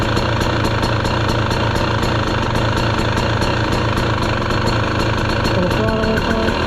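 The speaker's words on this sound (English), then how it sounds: "And that's really good in an idle." A 2023 KTM 300 XC two-stroke dirt bike engine idles steadily and loudly up close, with an even, rapid pulsing rhythm and no change in speed.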